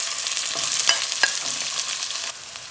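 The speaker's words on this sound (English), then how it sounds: "You can see the oil is very hot, so I'm going to add onion first" Onions frying in very hot mustard oil give a bright, dense sizzle with a few sharp crackles. It holds steady, then drops in volume near the end.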